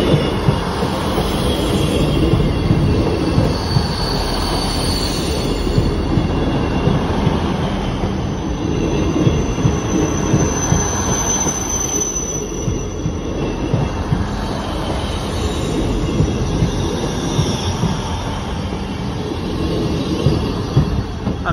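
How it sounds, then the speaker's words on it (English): A Class 159 diesel train passes a level crossing with a warbling alarm, a loud, sustained rumble of rail wheels with squealing and rhythmic clatter running steadily for over twenty seconds close by. "London train just entered the station"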